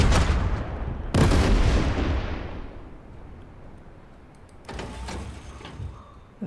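A tank gun in Total Tank Generals, set in the 1942 Operation Uranus campaign, fires two heavy booming shots with long decaying rumbles, followed by a fainter rattle of distant combat; no talking.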